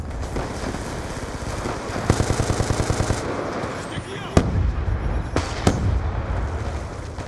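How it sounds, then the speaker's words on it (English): Hellstorm missile strikes in Black Ops 2 erupt as loud, dense explosions and rapid crackling bursts, with sharp pops and heavy gunfire layered over the blasts and voices mixed in. "Friendly Hellstorm missile inbound."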